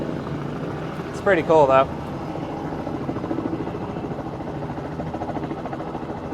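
A helicopter sits parked at an outdoor diesel truck festival, its rotor and turbine giving a steady, fairly loud whirring drone that runs the whole time while someone talks briefly over it.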